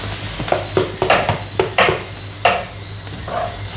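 Boiled potato frying with a pinch of salt in a pan, heard as a loud, close run of rhythmic scraping stir strokes over a steady sizzle, with no voices.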